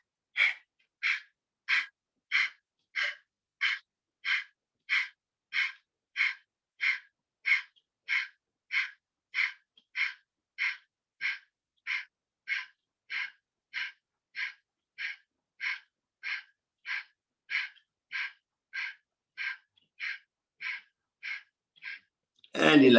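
Kapalbhati yoga breathing: a long, steady series of about thirty sharp, forceful nasal exhalations, evenly spaced at roughly one per second, close and clear with no talking, done while holding the breath during a cleansing routine.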